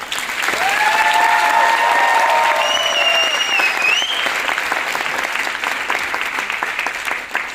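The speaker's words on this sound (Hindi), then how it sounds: "इतनी सी तालियां अक्षी के लिए।" An audience applauds at a stage event: dense, sustained clapping from a crowd for about seven seconds, with a few thin whistle-like tones drifting over it early on.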